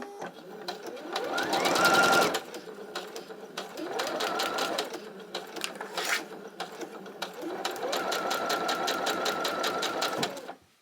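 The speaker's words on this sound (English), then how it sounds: "I'm going to sew right on that thick black line." Sewing machine stitching a bunny quilt block, running in three fast rattling bursts with brief pauses between, loud and close.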